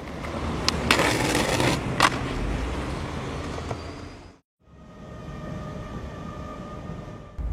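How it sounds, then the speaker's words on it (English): A train heading into Bristol rumbles steadily with a loud, broad roar and a few sharp squeals, drops to silence for a moment, then carries on with a smoother, humming run; no one talks. "We're going into Bristol on the train."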